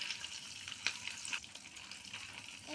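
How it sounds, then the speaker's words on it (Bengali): Fish roe frying in hot oil gives a steady, close sizzle with crackles and small pops scattered over it, moderately quiet and unbroken, with no voices. "এই দেখো ভাজা হচ্ছে আস্তে আস্তে"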